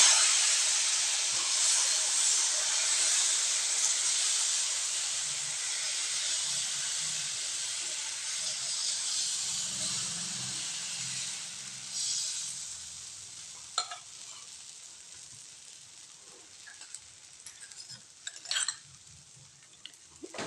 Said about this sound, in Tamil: இப்போ நம்ம தோசை ஊற்றிக்கலாங்க தோசை ஊற்றுறதுக்கு தோசைக்கல்லை அடுப்பில் வச்சுக்கலாங்க